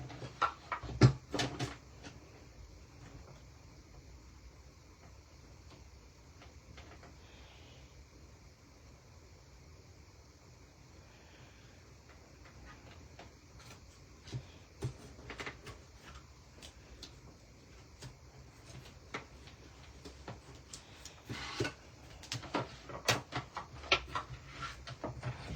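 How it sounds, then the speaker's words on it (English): Die cutting machine with plates and dies being run through, giving scattered cracks, creaks and ticking clicks over a low steady hiss, faint and close, growing busier toward the end with no talking. "Do not be alarmed by cracks and creaks. That's how these plates and dies work."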